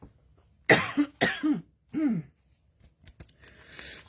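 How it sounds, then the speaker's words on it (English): Several harsh coughs in a row, close up, followed by a throat clearing and a breathy exhale. "Apparently I'm not done coughing."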